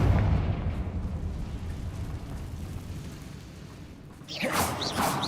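A deep rumbling blast from the Confringo fire spell in a Harry Potter–style video game, a heavy low boom at the start trailing into sustained rumble, with a brighter burst near the end.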